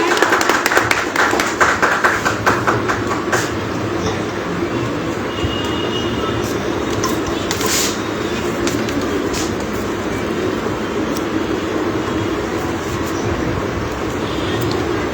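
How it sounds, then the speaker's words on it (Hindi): An audience at a theatre event claps in sustained, dense applause to welcome a guest, loud at first and then settling into a steady roar of many hands. "एक बार जोरदार तालियों से उनका स्वागत किया जाए"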